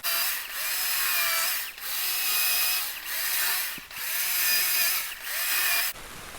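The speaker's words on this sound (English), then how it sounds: "we're going to take the saw and make just a quick cut on the front and the back to square it up" Chainsaw cutting wood while carving a snowman, making quick squaring cuts: a loud, steady engine whine in several long passes, briefly dropping between cuts, then idling lower at the end.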